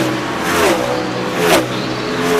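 Race car engines roaring at Richmond during the 2002 Pontiac Excitement 400, a loud continuous whine with cars sweeping past in rising and falling waves.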